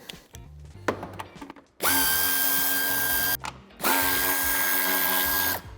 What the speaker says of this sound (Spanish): quitamos el tornillo que sujeta el paragolpes de cabeza de 8 y con cabeza de 10 los tornillos que sujetan el piloto